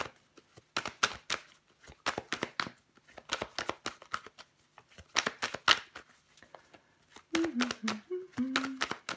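Tarot cards are laid down and handled on a table in quick bursts of sharp, crisp slaps and rustles, close by, with someone speaking briefly near the end.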